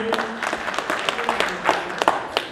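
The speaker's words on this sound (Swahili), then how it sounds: "pigie makofi." A church congregation in a cathedral at a Sunday music service applauds, with uneven, moderately loud claps from many hands and individual sharp smacks standing out. Faint voices murmur underneath.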